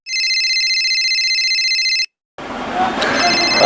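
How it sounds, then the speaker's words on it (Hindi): A telephone rings with a steady, loud electronic trill for about two seconds, then stops. After a short silence, room sound and movement follow. "ऐसा लग रहा है बहुत दिनों के बाद आ रहा है फोन।"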